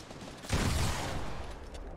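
A burst of video game gunfire kicks in abruptly, then settles into sustained, noisy shooting that fades slightly toward the end, moderately quiet with no voices.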